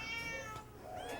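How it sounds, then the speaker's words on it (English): Cats and kittens meow in an animal shelter's cat ward, a few soft, drawn-out mews that sound faint and slightly distant. "This is where all our cats and kittens reside."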